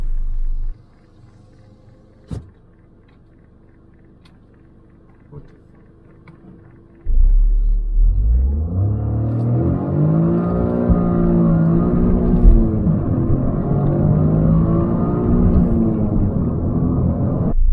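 A 2024 Toyota GR Corolla with traction control off sits near silent, then launches hard toward 60 mph, its engine roaring loudly and close as the pitch climbs repeatedly through successive gear shifts.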